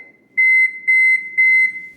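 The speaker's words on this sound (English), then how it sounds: "Let's set the timer for 35." A kitchen timer sounds three clear, evenly spaced electronic beeps at a steady pitch while it is set for a baked lentil quinoa mushroom loaf. Each beep is loud and close, with near silence between, and no voices.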